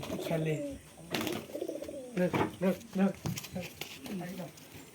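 Fancy pigeons with long feathered feet coo in short repeated throaty bursts, close by, while people talk over and between the calls.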